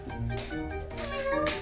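A cat meows a few times in a home, the short calls close and clear, with faint household sounds around them.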